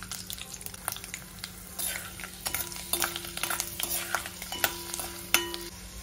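Cumin seeds, curry leaves and peanuts hit hot oil in a pan for sevai upma, giving a steady close sizzle broken by sharp scrapes and clicks of a stirring spoon.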